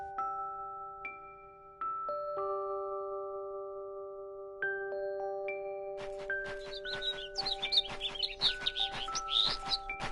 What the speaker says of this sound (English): A migratory bird.